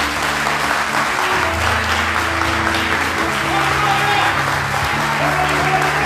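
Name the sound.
congregation applause at church service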